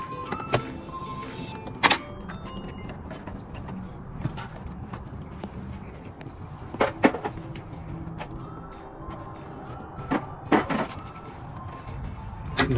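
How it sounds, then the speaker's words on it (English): Plastic push pins are pried out of a Toyota Camry bumper and fender liner, giving sparse, sharp plastic clicks and snaps with quiet handling noise in between. "Take out the push pins."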